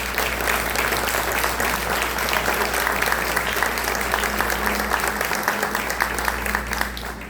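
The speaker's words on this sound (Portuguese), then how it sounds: "dá uma linda salva de palmas para o Senhor Jesus" A church congregation claps together in sustained, dense applause that holds steady from start to finish, loud and close, with a faint voice underneath.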